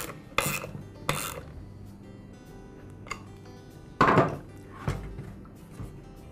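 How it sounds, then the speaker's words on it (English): A ratchet wrench tightens the nut on the impeller shaft of a Ryobi handheld gas blower, giving a few short, close scraping and clicking bursts separated by pauses. "And I'll secure the nut with a ratchet wrench."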